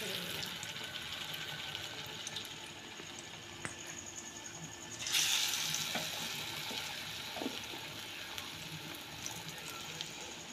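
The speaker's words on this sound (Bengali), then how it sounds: "এইভাবে এগুলো একটা একটা করে ব্রেডগুলো বেসনের মধ্যে করে নিয়ে কড়াতে ছেড়ে দিতে হবে" Gram-flour-battered bread pakoras frying in hot oil in a kadai, a faint steady bubbling hiss that swells louder midway as another piece is dropped in, with no one talking.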